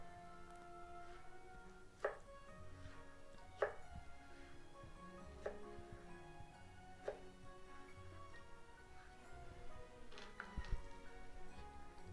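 A knife chops vegetables into sticks for vinegret on a cutting board, giving sparse, sharp taps a second or two apart, faint and unhurried over a steady low room hum.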